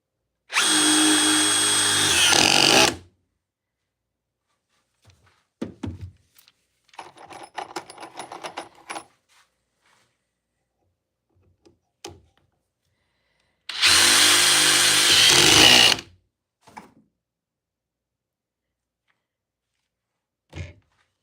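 A Surge Gen 2 impact driver sinks 3.5-inch deck screws in two loud, close bursts of rapid hammering about three seconds each, with quieter handling clicks and rattles between them.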